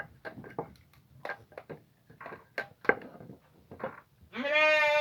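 Soft talking and clattering give way at the end to a loud, high, wavering bleat from a lamb close by.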